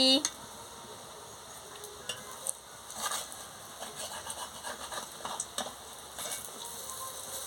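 Soybean and gram-flour fritters fry quietly in a pan while they are turned over, with faint sizzling and a few soft scrapes and taps of a utensil against the pan.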